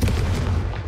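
A Confringo fire spell blasting in Hogwarts Legacy, a loud, dense rumbling burst that fills the whole moment with a deep boom and crackling spread, close and alone without talk.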